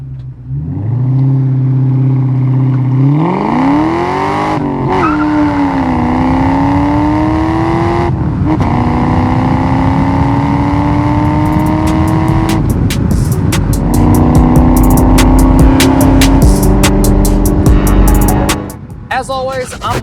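A 1999 Saleen S-281 Mustang with a supercharged 4.6-litre V8 revs and pulls through the gears on a test drive, the engine note climbing and dropping with shifts, loud and close, with supercharger whine.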